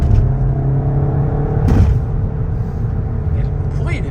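A Peugeot 308 GTi engine revs up under acceleration, a loud, close rumble that climbs in pitch with a brief surge near the middle.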